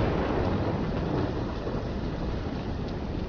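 Steady rumbling storm ambience from Black Ops 3, with rain and low thunder rolling continuously and fairly loud throughout, no distinct single crack standing out.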